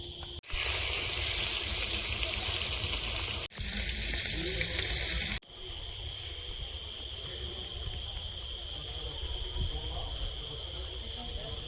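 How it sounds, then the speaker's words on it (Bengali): Fish fry in hot oil in a pan with a loud, steady sizzle that briefly cuts out and then resumes at a lower, continuous hiss. "মাছগুলো ভাজা হয়েছে, তুলে নে, আর বাকি মাছগুলো ভেজে নেব।"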